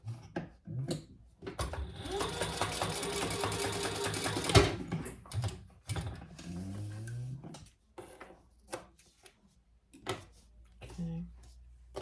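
Sewing machine basting a D-ring onto a sling bag panel, a steady mechanical whir running for about three seconds, then brief bursts of stitching and handling clatter with short pauses.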